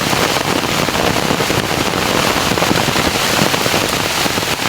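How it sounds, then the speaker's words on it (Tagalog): Rain falls on a field where mushrooms are being gathered, a dense, loud, unbroken hiss of drops pattering on umbrellas and ground, with no voices. "Kaya umuulan sa bukid"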